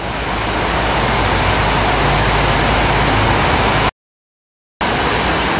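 Heavy rain pours over a bus on the road, a loud, dense, steady roar of broadband wash that cuts out abruptly for under a second before resuming just as strongly.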